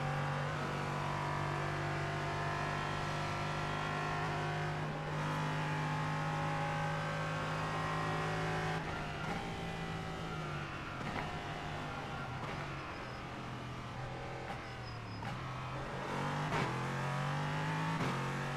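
GT3 race car engine in the iRacing sim, a steady, loud droning roar held at high revs, with pitch dips and shifts near the end as the car slows and accelerates again.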